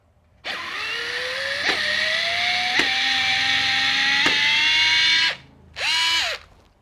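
A FANTTIK NEX L1 PRO electric screwdriver runs in reverse to back out a screw. Its whine is steady and rises slowly over about five seconds, broken by a few sharp clicks, then a short final burst follows. It is loud and close with no talk.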